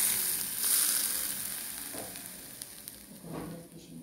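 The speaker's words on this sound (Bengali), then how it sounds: "একদম গরম ফুটন্ত তেলটা আমি অ্যাড করে দিয়েছি।" Hot boiling oil poured onto caramel in a home kitchen sets off a steady, close sizzle that runs the whole time, with brief crackling bursts near the end and no talking.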